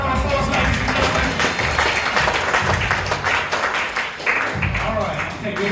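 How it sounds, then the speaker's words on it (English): Audience applause at a live comedy hypnotist show at the Faversham Fringe 2025, a steady, full burst of clapping from a crowd with voices and cheers mixed in over several seconds. "Give them a massive round of applause, ladies and gentlemen."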